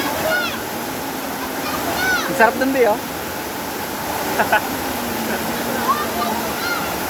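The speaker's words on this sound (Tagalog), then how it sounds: "Ito yung Sprite Falls." Sprite Falls, a waterfall at a resort under a bridge, gives off a steady rushing wash of water as people talk over it and birds chirp now and then.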